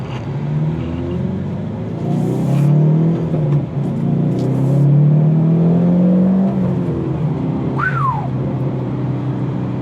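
A 2019 Hyundai Veloster N drives and accelerates on the road, its engine note rising and falling in long smooth sweeps under a constant cabin rumble, with a brief squeak near the end.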